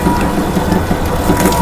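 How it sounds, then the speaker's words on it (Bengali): A battery-powered sugarcane machine crushes thick sugarcane stalks, a loud, steady grinding and ratcheting mechanical clatter that runs continuously at close range. "এইরকম মোটা মোটা আখ নিমেষের মধ্যে আপনারা এই মেশিনটি দিয়ে করে নিতে পারবেন"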